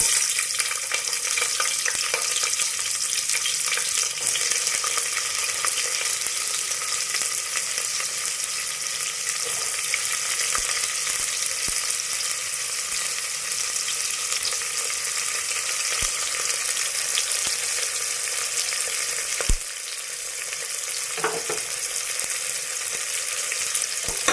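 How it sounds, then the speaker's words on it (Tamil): Green chilies and onions frying in a pan for a simple vegetable biryani, a continuous loud hissing sizzle with occasional stirring knocks, close and unbroken, with no one speaking. "பச்சை மிளகாய், வெங்காயம் போட்டுக்கிறேன்."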